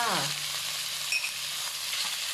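Pork belly sizzles steadily in a hot pan for a Thai stir-fry with chili curry paste, celery and scallions; a continuous close, bright frying hiss, with a brief stirring scrape partway through.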